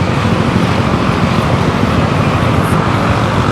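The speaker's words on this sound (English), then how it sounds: "Traffic jam, motorcycle." Dense street traffic jam in Bangkok with motorcycles, a loud and steady roar of engines that rumbles on without pause and has no voices over it.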